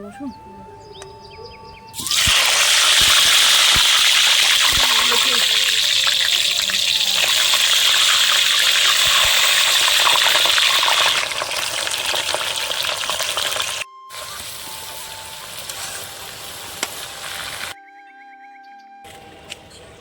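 Potatoes hit hot oil for a biryani, erupting into a loud, steady, dense sizzle that runs for most of the stretch, easing slightly later, with brief cutoffs and faint bird calls around it.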